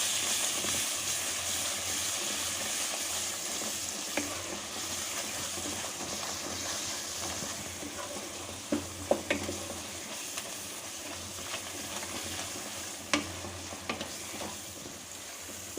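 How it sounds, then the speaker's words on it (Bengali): Spice paste of coriander and cumin powder fries in oil for a mutton curry, a continuous soft sizzle with scattered scraping knocks of a spoon stirring in the pan. "মশলাটা ভালো করে কষিয়ে নেব।"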